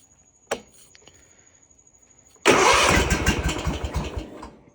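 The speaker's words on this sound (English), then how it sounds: "you can take the choke back off and then crank it again. It'll fire up and you're good to go." A Kawasaki lawn mower engine cranks once with a short pull, sits quietly, then fires up and roars into a loud, steady, close-up idle.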